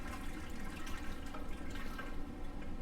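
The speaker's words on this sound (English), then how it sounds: "get you some boiling water and you pour it in the pan" Boiling water is poured into a baking pan for bread pudding, a continuous close splashing, gurgling stream with slight fluctuations and no talking.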